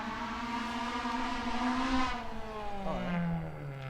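A rally car engine on stage SS9 Windsor 1 of the 2019 Otago Rally holds a steady, sustained rev, then pitch swoops and drops near the end, moderately distant and alone without talk.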